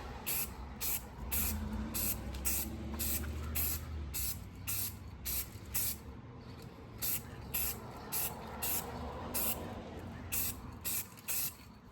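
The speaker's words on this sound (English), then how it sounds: "And when you spray, you're spraying really light coats." Repeated short bursts of enamel aerosol spray paint hiss in quick, even pulses, light coats onto a car grille, close and fairly loud, with brief pauses between sprays.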